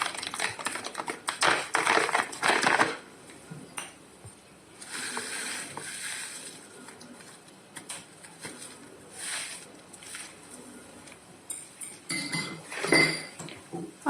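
Spoon clinking and scraping in a bowl while honey and spices are mixed for a pork-with-oranges dish, in quick bursts of light metallic taps with quieter pauses between, no talking.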